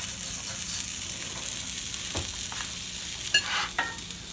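Brussels sprouts fry in a pan with a constant bright sizzle, occasionally broken by a stir or a sharp scrape of a utensil, close and steady with no talking.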